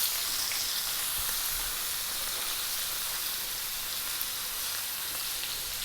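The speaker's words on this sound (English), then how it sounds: "I want to just get in a little bit more olive oil. And then butter." A bone-in 29 oz rib eye steak sizzling hard in olive oil and butter, a dense, steady hiss of frying fat, close and unbroken throughout.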